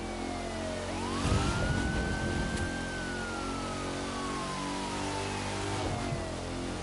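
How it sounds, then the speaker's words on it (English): A wailing police siren in the racing video game The Crew 2 rises and falls steadily over a low engine hum, continuous and fairly loud throughout. "You hear the sirens, come on."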